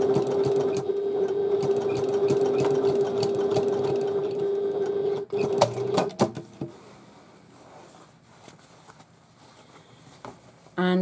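A sewing machine runs steadily for about five seconds, stitching handbag lining pieces for a domed handbag, then stops, followed by scattered handling clicks and a brief burst of motor at the very end.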